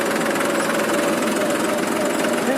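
A farm tractor engine runs steadily on the way to a paddy field for sowing, a close, continuous mid-pitched drone with a light knocking texture and no pauses.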